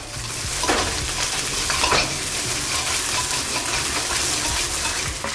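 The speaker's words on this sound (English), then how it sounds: "Keep stirring them around," Onions fry in hot oil while being stirred, a loud dense sizzle with a few scraping strokes through it.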